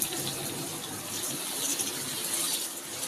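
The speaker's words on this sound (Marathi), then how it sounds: "थोडंसं पाणी टाकूया" A little water is poured into a cooking pot of brinjal curry, a steady close gushing splash that runs for a few seconds without pause.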